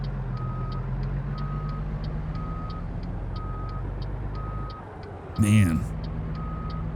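In American Truck Simulator, a truck backing a trailer gives out evenly spaced reversing beeps over a low diesel engine idle. An air-brake hiss breaks in briefly, and someone speaks a word.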